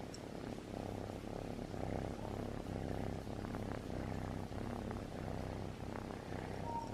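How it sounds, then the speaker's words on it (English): A pet cat purrs in a steady, rumbling, continuous drone close up, soft but constant throughout with no voices. "Can y'all hear her purring?"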